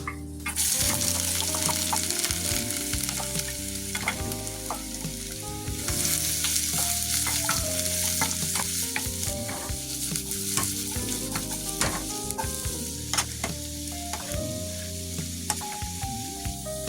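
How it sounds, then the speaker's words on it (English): Carrots sauté in a little oil in a separate pan, giving a steady, close sizzle with frequent clinks and scrapes of stirring throughout, no voices. "I will use a separate pan to saute my veggies. Also add a little oil. Carrots, because they're harder to cook."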